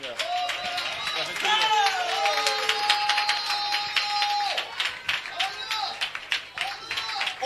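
A church congregation cheers and claps, with loud sustained crowd voices and whoops over a bed of scattered applause, and the clapping grows more distinct toward the end.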